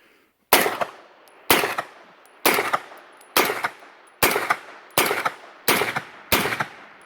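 A CMMG RDB 9mm rifle fitted into an Aero EPC AR-9 fires eight sharp shots in a steady semi-automatic rhythm, close and loud, each crack followed by a brief ringing decay, with no talking.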